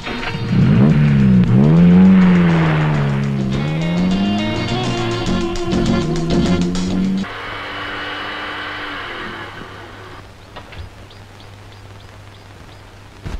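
A car engine revs loudly up and down nearby, then the vehicle pulls away and its drone fades steadily into the distance, with no talk.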